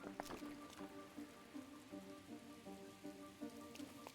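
Steady rainfall patters on surfaces in Zelda: Breath of the Wild on Switch 2, a soft, even hiss with faint drips and a quiet musical tone underneath, no voices.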